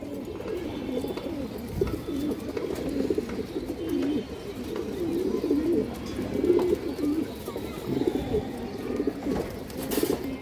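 Pigeons coo steadily in low, rolling throaty phrases close by, with brief rustles and faint higher chirps mixed in. There is no speech.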